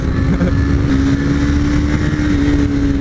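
A race-prepared 2022 KTM 390 motorcycle engine drones loudly and continuously at speed on a track, a constant close roar with a steady pitch and wind rush.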